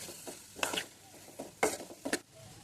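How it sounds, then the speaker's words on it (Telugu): Onions and green chillies stirred in hot oil in a pan after eggs were fried, giving soft sizzling patter broken by a few sharp scrapes and clinks of a spatula against the cookware. "ఇలా ఎగ్స్ అనేవి పక్కకు తీసేసుకున్న తర్వాత అదే ఆయిల్లో ఆనియన్స్ అండ్ పచ్చిమిరపకాయలు కూడా యాడ్ చేసుకోవాలి. ఇవి బాగా గోల్డెన్ బ్రౌనిష్ కలర్ వచ్చే వరకు వేయించుకోవాలి."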